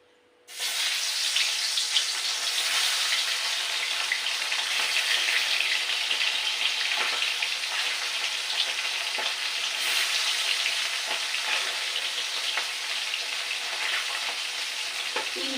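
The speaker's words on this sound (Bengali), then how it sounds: "এবারে মাছ দিয়ে দেবো" Turmeric- and salt-coated fish dropped into hot oil in a wok sets off a sudden, loud, dense sizzle that holds steady and close, broken now and then by faint pops and scrapes.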